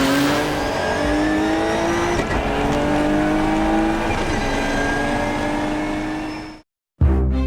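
A turbocharged Nissan GT-R R32 with a 4-inch exhaust roars at high revs, a loud sustained engine note with rising harmonics that fades abruptly into a short silence, then a brief burst of noise.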